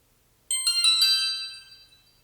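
A Yi Lite action camera powers on with a bright, fairly loud chime of a few quick ringing notes that fade out over about a second and a half, heard alone in a quiet room.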